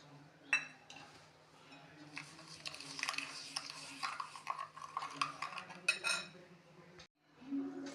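Spoon stirring sugar and food colouring together in a bowl, with repeated clinks and scrapes against the dish, close and moderately loud, the strokes running steadily throughout.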